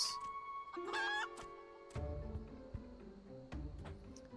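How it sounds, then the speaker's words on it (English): Chicken clucking in Final Fantasy XIV, a few short close calls near the start with a brief rising squawk, followed by game ambience and thuds with no talk. "Wait, it's a chicken."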